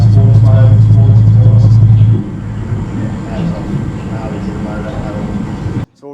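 A Mercury 400HP V10 outboard boat motor runs in sports mode with a steady low engine drone that settles into a rougher rumble, and a voice speaks over it.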